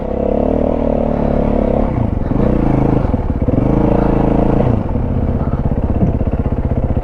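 A Yamaha WR450F enduro motorcycle rides a tight trail, its engine loud and close, revving and dropping in surges with a rapid rattling thump at low revs.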